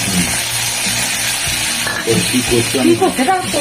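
Fish oil seasoned with salt and turmeric frying in oil in a wok, a loud constant sizzling hiss close by, with people talking over it in the later part.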